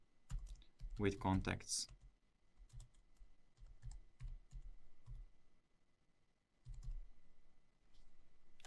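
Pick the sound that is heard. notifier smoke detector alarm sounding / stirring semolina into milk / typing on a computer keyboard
typing on a computer keyboard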